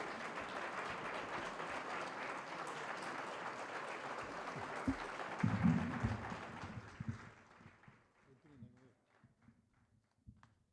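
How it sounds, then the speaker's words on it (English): Audience applause fills an education summit hall as a deputy minister is welcomed to the podium, a dense steady clapping that swells briefly then thins out and fades to scattered claps near the end. "We give him a round of applause."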